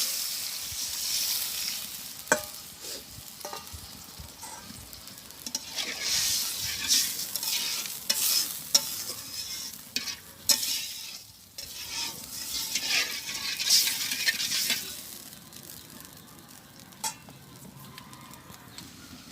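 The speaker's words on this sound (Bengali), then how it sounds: "এর ভিতরে আমি দুধ দিয়ে দেবো। তো এই যে দুধ দিয়ে দিতেছি।" Milk added to a fried spice paste with turmeric in a pan, then stirred. Soft, continuous sizzling with repeated scraping strokes throughout.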